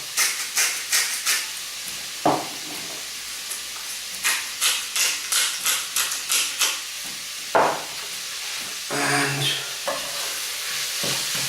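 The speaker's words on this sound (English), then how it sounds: "Just want to put a little bit of colour on the mince" Minced meat browning in a pan while being stirred for a cottage pie, with a steady frying sizzle broken by repeated scraping strokes of a spoon and a few louder knocks, close and alone without talk.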